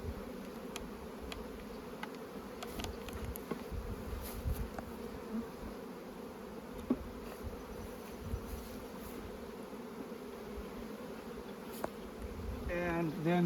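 Honeybees buzz continuously in a dense, steady hum, with a few brief knocks and taps of hive handling and no talking.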